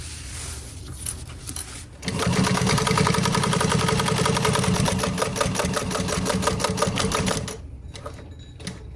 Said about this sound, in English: And then I can finish sewing all the way across.